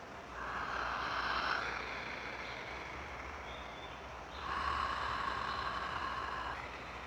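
Ujjayi yoga breathing, half of each breath through the mouth and the rest through the nose with the mouth closed: two soft, hissing, ocean-like breaths in a row, close and quiet.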